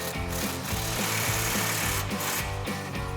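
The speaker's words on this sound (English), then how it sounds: "we're gonna grab our impact and 15mm socket, tighten that down" An impact wrench with a 15mm socket tightens an exhaust clamp on a 2024 Tacoma during an MBRP Armor Pro single exhaust install, giving a loud, rapid hammering rattle with short bursts, close and alone.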